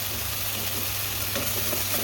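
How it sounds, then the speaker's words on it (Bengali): Pieces of chicken sizzle steadily in a pan while being fried for a sandwich, a close, even hiss with faint stirring, no one talking. "স্যান্ডউইচের জন্য একটু চিকেন ভেজে নিচ্ছি।"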